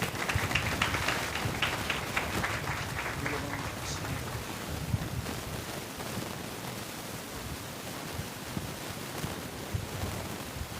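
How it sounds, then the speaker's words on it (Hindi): An audience applauds at a Bible college graduation in Islamabad, with sustained, even clapping from a large crowd throughout and a few voices faintly underneath. "आप सबकी भरपूर तालियों में"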